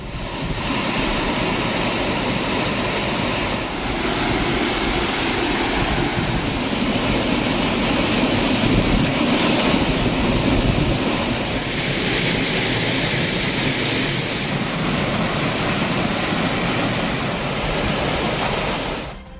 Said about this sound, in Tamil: நெல்லை மாவட்டம் மணிமுத்தாறு அருவியில் நீர்வரத்து அதிகரித்துள்ளது